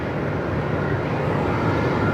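A green Airbus A220 departing Melbourne Airport in strong wind produces a steady, broad engine roar with heavy wind rumble, loud and unbroken for a couple of seconds with no voices.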